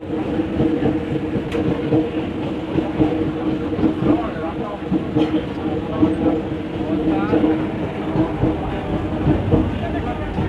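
A local passenger train on the Sealdah to Taki Road line rumbles steadily along after leaving Kankra Mirzanagar, its continuous rolling drone and faint clatter filling the space, with occasional voices under the noise.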